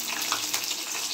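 Pieces of pointed gourd (potol) sizzle and hiss in hot oil in a pan, a dense, steady crackling wash up close with no talking.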